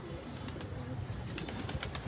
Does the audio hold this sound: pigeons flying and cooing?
yes